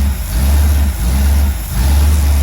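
A Ford 390 FE V8 with a carburetor, being timed after a rebuild, runs loud and close in a rough low rumble that dips and surges twice, as if catching and faltering. No one speaks.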